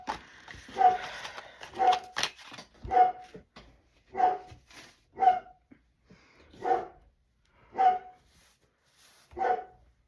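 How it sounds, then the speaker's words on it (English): A dog barks repeatedly, about one sharp bark every second, loud and close, in an otherwise quiet room. "I'm sorry about him barking,"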